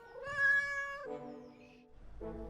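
A stray cat gives a clear, drawn-out meow followed by a lower second cry and a short third call, close and alone without any talking.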